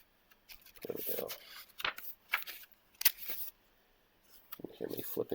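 Paper pages of a game manual for a baseball computer game are flipped by hand, several quick papery rustles and snaps in clusters, close and fairly soft.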